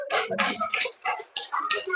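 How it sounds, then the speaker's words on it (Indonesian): Children in a classroom clap for a classmate, a dense, uneven burst of small hands patting together close by, mixed with young voices calling out. "Tepuk tangan buat Amira."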